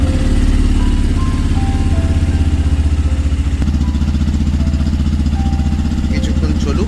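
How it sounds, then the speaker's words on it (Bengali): A motorcycle idles steadily after a cold start, close and loud, with a rapid chugging rhythm and a slight change in engine note partway through. "যথারীতি বাইকে কোল্ড স্টার্ট করা ইজ নেসেসারি।"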